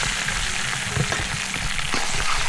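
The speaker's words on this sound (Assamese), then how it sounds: "কেৰাহীত পিঁয়াজ ধুনীয়াকৈ ফ্ৰাই হৈ গৈছে আৰু আমি হাঁহৰ মাংসখিনি ধুনীয়াকৈ ইয়াতে ঢালি দিছোঁ" Duck meat hits hot onions frying in a karahi, outdoors at a village field, setting off a steady broadband sizzle with a few soft clinks and stirring knocks, fairly close and with no talk.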